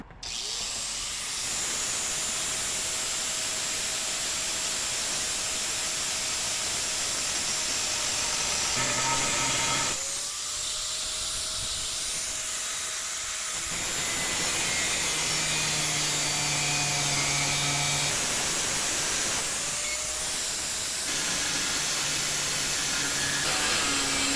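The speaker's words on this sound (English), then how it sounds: "I'm going to cut up some of this old angle iron, use it for my brackets" Old angle iron being cut into brackets, a loud sustained whining roar of a cutting tool with its pitch dropping and rising as each cut bites in, broken by several short pauses.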